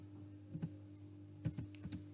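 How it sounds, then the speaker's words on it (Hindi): Someone types a command on a computer keyboard while setting up a network switch: soft, close key clicks in small bursts, with a steady low hum underneath. "अब मैं इधर एक और कमांड लिखती हूँ"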